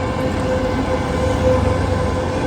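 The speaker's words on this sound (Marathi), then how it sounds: "वा ट्रेन आलेली आहे" A train passing through thick fog on a December morning in Pune's PCMC area gives a steady, loud rumble of rail noise with a faint sustained tonal note running through it.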